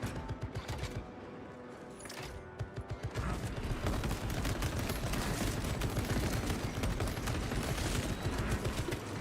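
Rapid, sustained bursts from a servo gun firing in Space Marine 2, loud and dense, turning into a nearly continuous chatter of shots after a brief lull.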